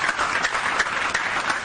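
A ceremony audience at the Palais de la Nation applauds vice-president Dr. Richard Moulaja: a short burst of crowded, continuous clapping with a few sharper claps standing out, fairly loud and close.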